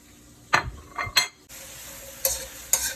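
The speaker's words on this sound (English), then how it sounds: "my seasoning is cooking up" Thyme and scallion seasoning cooking in coconut milk in a pot for a Jamaican steamed fish dish, with a steady bubbling sizzle and several sharp spoon scrapes and clinks against the pan, close and fairly loud.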